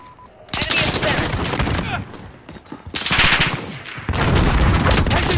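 Automatic weapons fire in Call of Duty: Modern Warfare, coming as loud, rapid bursts with short gaps between them, close and harsh, with a dense final burst.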